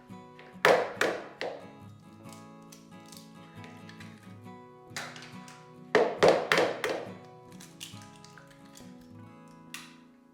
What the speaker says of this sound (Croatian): I prvo ćemo polupiti ovih 2 jaja.